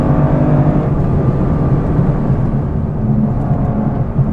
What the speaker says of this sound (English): You can definitely hear some road noise.